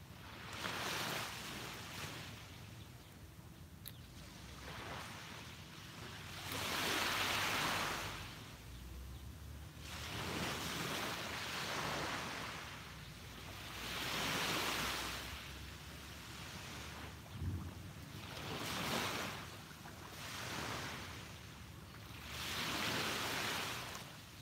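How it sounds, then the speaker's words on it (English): Calm ocean waves washing onto a beach at sunrise, soft rolling surges every few seconds with hushed hiss between them, steady and moderately distant, with no talk. "Oh, I know, the waves are so calm today."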